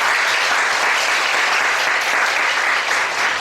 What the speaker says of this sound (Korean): 우리 아버님 어머님께 우리 응원의 박수 한번 하시죠.